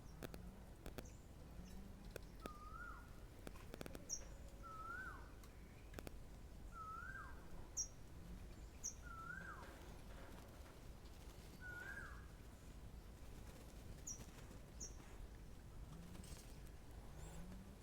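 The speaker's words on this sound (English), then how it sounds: "You can hear birds and all kinds of really cute birds like little warblers." Faint birdsong from small warblers at a hoya farm in Thailand: repeated short whistled calls at regular intervals, with occasional softer chirps in the background.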